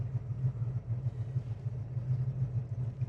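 A 1969 Mustang Fastback with an upgraded cam idles close by, its steady low rumble pulsing in an uneven, lopey rhythm throughout.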